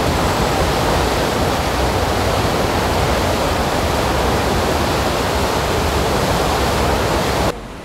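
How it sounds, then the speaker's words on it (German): The Eisbach river's standing wave in Munich's English Garden roars as a steady, loud, unbroken rush of water that fills the whole clip and cuts off abruptly at the end. "Das ist der Münchner Eisbach. Das ist im Englischen Garten."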